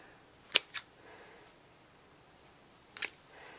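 Scissors snip through folded corker ribbon in a quiet room, two quick close cuts followed after a pause by a third crisp snip.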